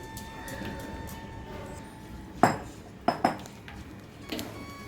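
Thiruchendur thiruppagam sweet being stirred in a pan on the stove, a few sharp metallic scrapes and clinks of the spoon against the pan standing out over a quiet background.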